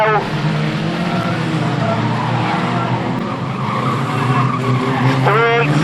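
Race cars at Standlake roar and skid around the track in a loud, continuous engine drone with tire squeal, a commentator talking over the racing throughout.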